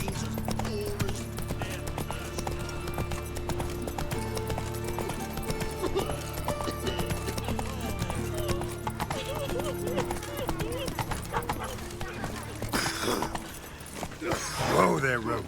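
Roach, the horse in The Witcher 3 video game, gallops with continuous rhythmic hoofbeats under game ambience, with speech throughout and a brief neigh near the end.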